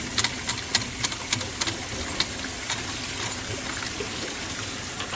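Water trickling and flowing through a garden sprinkler valve in a pumped irrigation setup, a steady low rush with faint intermittent clicks and drips, fairly close and continuous throughout.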